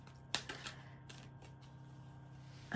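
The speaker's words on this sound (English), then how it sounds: "A couple more shuffles, and let's see what we get." Tarot cards are shuffled in a few quick riffling bursts, a sharp snap near the start followed by softer flicks, close and quiet in an otherwise still room.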